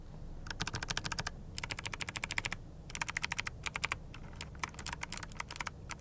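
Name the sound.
typing on mechanical keyboard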